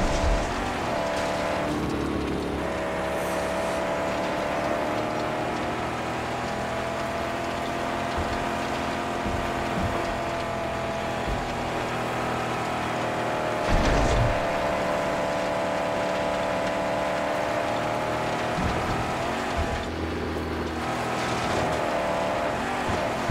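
Car engines drone steadily in a Mad Max death race, a sustained loud motor hum with shifting pitch as the vehicle accelerates and eases, punctuated by a few bumps and revs.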